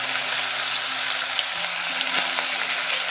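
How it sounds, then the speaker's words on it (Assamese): Whole spices, dried chillies, cloves, cardamom and bay leaf, frying in hot oil, a steady loud sizzle with faint crackles and light stirring clicks, no talking. "এইখিনি মই ভাজিম।"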